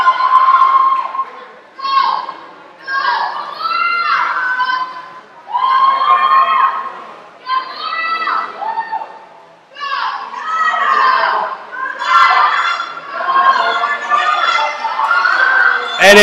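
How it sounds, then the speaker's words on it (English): Mount Hope teammates cheer and shout for a swimmer during a high school swim meet, loud excited young voices in repeated bursts with short pauses, echoing close by. "with her Mount Hope teammates cheering her on"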